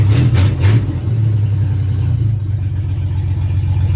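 An old 4.3 liter throttle body engine idles close and loud with a steady low rumble, and a brief uneven rev surges at the start.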